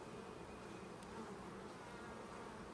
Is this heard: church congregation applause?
no